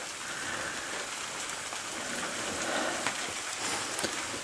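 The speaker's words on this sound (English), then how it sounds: "But the rain has been lovely." Steady rain falls at a cottage on a rainy Sunday, a soft, even patter with no voices over it.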